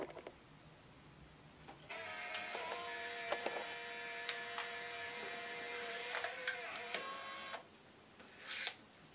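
A Fujifilm Instax mini Link 2 printer prints a photo with a steady whirring motor hum of several seconds, broken by small clicks, before stopping with a soft mechanical rustle as the print comes out.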